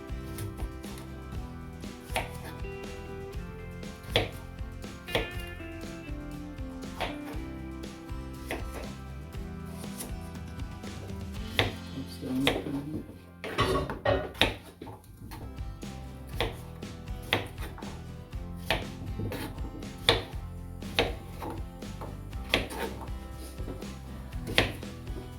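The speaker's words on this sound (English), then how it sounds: "So now we're just going to chop the potatoes." A knife chops skin-on potatoes on a cutting board in a home kitchen, irregular sharp knocks scattered across the clip with short pauses, close and moderately quiet, with occasional clatter of kitchenware.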